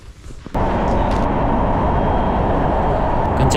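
Singapore airport train riding toward the city centre, a loud steady rush of strong wind and rolling rumble filling the cabin after a sudden onset, constant and close with no talk.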